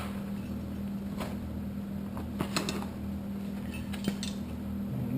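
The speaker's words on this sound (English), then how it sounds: "Grab my torque wrench and my 9/16 wrench." A torque wrench and a 9/16 wrench handled in a Corvair engine bay during a valve adjustment: a few faint, sparse metallic clinks and knocks over a steady low hum.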